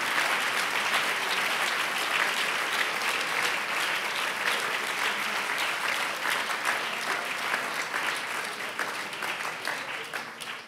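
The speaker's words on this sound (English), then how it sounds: "Would you clap your hands and give thanks to Him for what He's done?" A church congregation claps together in sustained, dense applause that stays loud and steady for about ten seconds, easing slightly near the end, with no voices rising above it.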